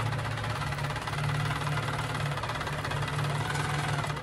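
Handi Quilter longarm quilting machine sewing across the top of fabric for a tote bag, a steady close motor hum with a fast, even mechanical pulse running throughout, no talking.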